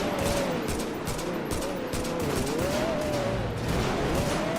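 Rapid bursts of gunfire crackle in a GTA V roleplay shootout, repeated shots fairly quiet and continuous, with faint background sounds and no clear talk.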